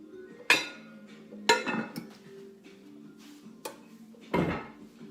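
Pork chops and tomato gravy being moved into a 13x9 pan, a few sharp metallic clinks and clatters of utensil against pan spaced over several seconds, with a low murmur between them.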